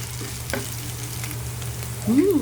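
Chili garlic sauce being stirred into mapo tofu in a pan, giving a soft, steady sizzle with faint utensil scrapes over a low background hum, lasting only a couple of seconds.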